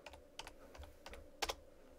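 A chat command is typed on a computer keyboard: about six quick, clicky keystrokes in an uneven rhythm, close and fairly quiet, ending with a slightly louder double tap.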